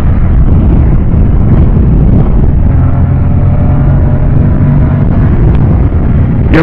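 A 2024 Moto Guzzi Stelvio motorcycle accelerates hard on a test ride, its engine note rising steadily under a loud, constant rush of wind noise at the microphone.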